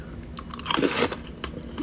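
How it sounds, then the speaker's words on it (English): A whole pretzel bitten and crunched close to the mic, a crisp snap followed by a few brittle chewing crackles over about two seconds, with no talking. "let's try a whole pretzel."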